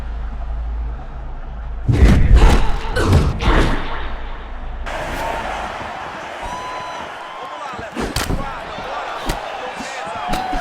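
Punches land in the EA Sports UFC 6 video game during a women's bout: several heavy thuds and slaps in quick clusters, then a loud impact later over crowd ambience, with a commentator talking.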